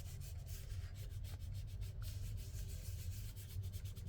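Paper being rubbed down firmly by hand onto a handmade envelope booklet, a steady, close, continuous scratchy rubbing under a constant low background hum.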